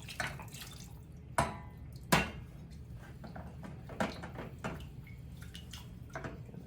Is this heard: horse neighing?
no